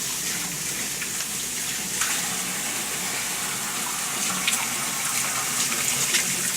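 Steady tap water pouring into a kitchen sink, a continuous broadband rush with slight splashing changes, close and moderately loud with no talking.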